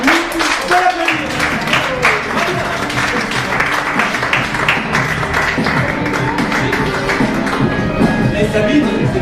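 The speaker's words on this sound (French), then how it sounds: "Bon applaudissement." Audience at an improv comedy show clapping loudly and steadily, close dense hand claps mixed with crowd voices and some talk throughout.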